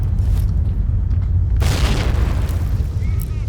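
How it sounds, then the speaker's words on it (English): A grenade detonates in S.T.A.L.K.E.R. Shadow of Chernobyl, a loud booming blast that bursts over a low rumbling background and trails off into debris noise, with someone talking faintly. "I'm just gonna throw a grenade at you and see if it flushes you out"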